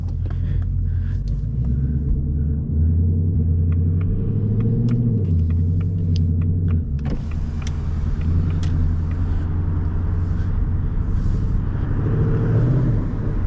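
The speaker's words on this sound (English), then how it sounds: "you can actually hear the exhaust outside" A 2024 Ford Mustang GT V8 exhaust rumbles steadily while driving, deep and close, with the pitch rising and falling through gear changes and light clicks and road noise over it.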